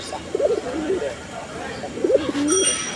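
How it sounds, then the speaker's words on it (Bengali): Pet pigeons for sale cooing nearby in two short, soft bursts of throaty coos with a pause between, fairly clear against a quiet background. "এই যে দেখেন কবুতর"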